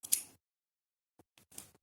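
Scissors snip paper off a freshly unboxed package, with one crisp close cut followed by a few quieter small snips and rustles after a pause.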